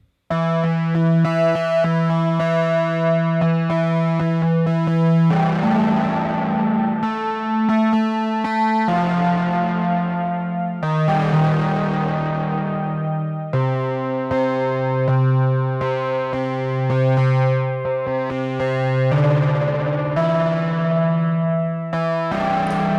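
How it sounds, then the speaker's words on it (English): A bass guitar plays a slow line of sustained, ringing notes through an amplifier, each note clear and full with lingering overtones, no voices. "I've got a bass amplifier here. Let's play some stuff."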